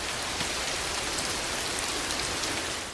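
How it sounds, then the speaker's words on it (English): Heavy rain falls steadily in a film scene, a dense, even hiss of drops hitting surfaces with no pauses. "This rain is beautiful"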